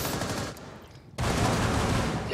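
Gunfire in the Rainbow Six video game, with a dense rapid burst, a brief drop to near quiet, then another sustained volley, all fairly faint.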